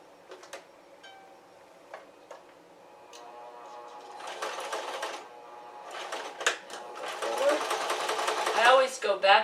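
Sewing machine stitching a 5/8 seam on walking shorts, starting with a few clicks, then running in bursts that grow louder with back-and-forth stitching, while a person talks over it.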